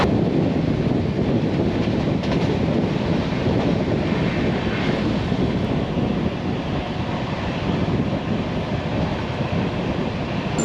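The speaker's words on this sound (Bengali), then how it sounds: "আমাদের ট্রেনের স্পিড এখন আটানব্বই কিলোমিটার প্রতি ঘন্টা" Inside the Doon Express running at 98 km/h, a steady, loud rush of wheels, rail noise and wind roars without a break, unchanging from start to finish.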